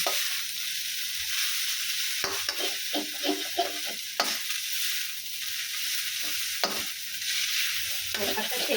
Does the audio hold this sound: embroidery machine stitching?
no